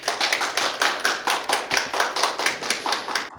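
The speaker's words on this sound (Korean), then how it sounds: "큰 박수로 환영해 주시면 감사하겠습니다" Applause from an audience at the 2020 Daejeon child welfare forum, greeting the moderating professor and panel; a small group's rapid, steady clapping with rhythmic pulses, moderately loud and close, with no voices.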